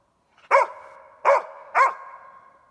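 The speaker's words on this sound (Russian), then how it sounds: "Ну, лает." A hunting dog barks at a marten up a large aspen in the forest: three loud, close barks spaced about a second apart, with quiet woods between them.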